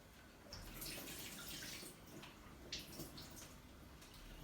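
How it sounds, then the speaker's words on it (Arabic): Hot water poured off boiled lentils through a strainer in a home kitchen, a steady splashing rush for about two seconds that tapers into lighter trickling and a few drips. "فوالا دوك نصفي هاد الماء هذايا، صفينا هذا هكذا"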